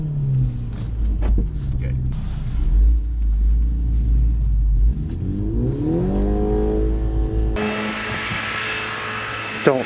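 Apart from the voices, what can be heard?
Mini Cooper S revving while doing snow donuts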